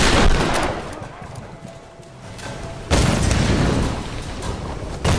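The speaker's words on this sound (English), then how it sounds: "I am missing with a shotgun" Shotgun blasts in the Tomb Raider video game: a loud burst right at the start, then a heavy, sustained roar of gunfire from about three seconds on, with no talk over it.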